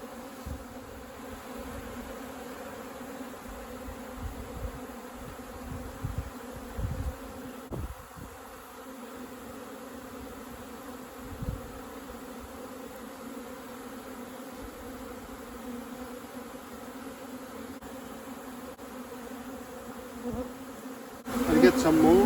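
Native honeybees buzzing around their hives at a rescue site in Manacor, Mallorca, a faint continuous drone steady throughout, with brief soft bumps and handling noises but no clear talk.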